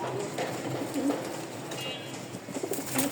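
Pigeons kept for breeding give soft, low cooing calls in a few short bursts over a steady hiss of background noise.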